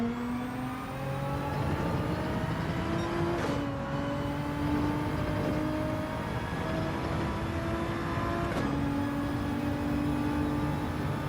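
A Toyota Supra GR.3 race car engine in Gran Turismo 7 at Spa: a steady droning howl whose pitch climbs and drops with gear changes, running continuously with no talk.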